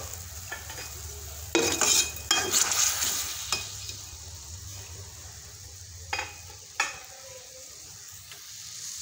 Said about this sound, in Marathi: ह्या मिरच्या दह्यामध्ये शिजवून घ्यायच्या.